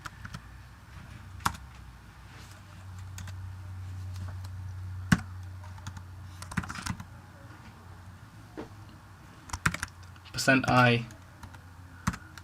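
Code is typed on a computer keyboard while programming in C in Xcode. Sparse, light key clicks and short bursts of typing come close up between stretches of someone talking.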